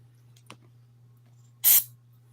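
A single short squirt of spray hisses onto a car seat being reupholstered, heard close and brief after a couple of faint clicks over a low steady hum.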